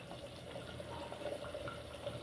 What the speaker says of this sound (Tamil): கொஞ்சம் இலகுன மாதிரி தண்ணி ஊற்றிக்கோங்க